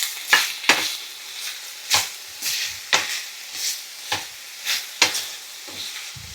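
Chopped tomatoes frying with onions in a hot pan, a steady sizzle broken by about ten sharp scraping strokes of a spoon stirring at an even rhythm.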